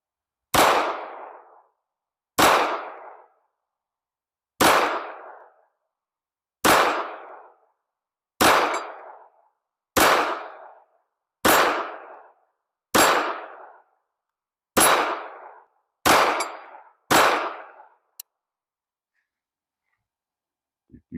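A Walther WMP .22 WMR pistol fires eleven shots at a steel target. Each shot rings as a sharp, loud metallic clang with a short decay, spaced about two seconds apart before the last few come quicker, followed by a faint final tick.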